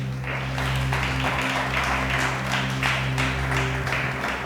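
A church congregation claps together in steady applause, a dense, even patter of many hands over a low constant hum, loud and close throughout.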